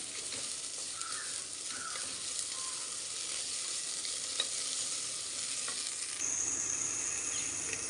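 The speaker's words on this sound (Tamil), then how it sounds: "நல்லா வதக்கி விடலாம். இது ஒரு 2 நிமிஷம் வதக்கலாம்." Vegetables sautéing in a pan for masala rice give a steady low sizzle and frying hiss, with occasional soft stirring scrapes, continuous and fairly quiet throughout.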